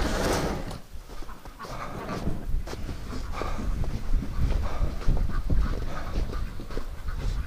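Duck quacks and honking fowl calls come in scattered bursts over a busy, noisy outdoor background, fairly close and moderately loud.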